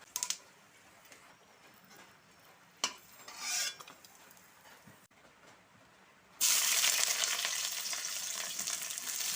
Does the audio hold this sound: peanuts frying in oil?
yes